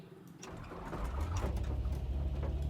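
The small piston engine of a Rand Robinson KR-2S experimental aircraft starts in X-Plane 12, a few sputtering clicks giving way to a low, steady engine drone that builds and holds.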